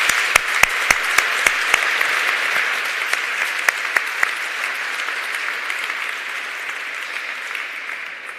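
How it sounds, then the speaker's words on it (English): Sustained applause from a gala audience for award nominees, with a few sharp nearby claps standing out early before it settles into an even, continuous patter. "please a round of applause for everyone who was nominated in this category"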